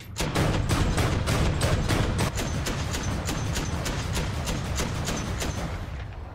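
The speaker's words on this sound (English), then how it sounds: "So we've got the main autocannon." Main autocannon of a Puma-like vehicle in War Thunder, fired in a fast, regular burst of loud, evenly spaced shots for several seconds.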